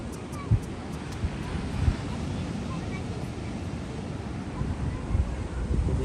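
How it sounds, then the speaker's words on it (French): Surf rolling onto Noosa beach in Australia, a steady broad wash of breaking waves with wind buffeting the microphone and a few soft thumps, fairly close and continuous. "Il y a des super vagues"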